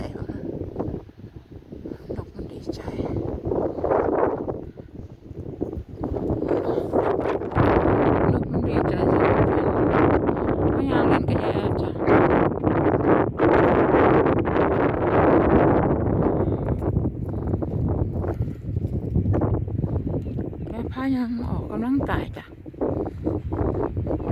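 Cool seaside wind buffets the microphone in rumbling gusts that rise and fall over about twenty seconds. A person talks at times beneath the blustery noise.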